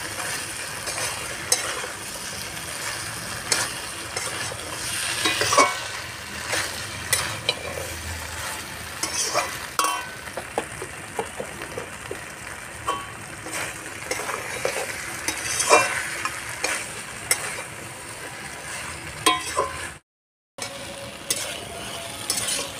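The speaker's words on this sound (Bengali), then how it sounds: "তরকারিটা ভালো করে ভেজে নিলাম" Vegetables stir-fried in a pan for shukto, a Bengali mixed-vegetable dish made here without bitter gourd: a steady sizzle broken by repeated scraping stirs and light utensil clinks, with a brief cut near the end.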